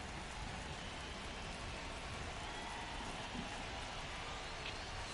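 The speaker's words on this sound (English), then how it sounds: "This rain is not letting up." Steady rain falls on a baseball game in MLB The Show, a constant even hiss with no breaks and no voices over it.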